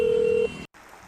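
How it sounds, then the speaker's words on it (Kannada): A telephone tone sounds steadily for about half a second, then cuts off, followed by a brief silence and low background noise, with no one talking. "ಫೋನ್ ಬರ್ತಾ ಇದೆ."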